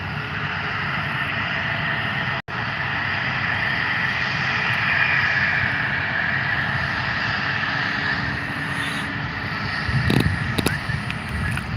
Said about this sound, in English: stand by and listen in. These lovely engines.